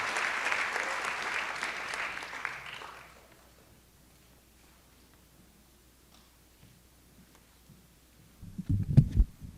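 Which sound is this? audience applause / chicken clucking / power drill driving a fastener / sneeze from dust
audience applause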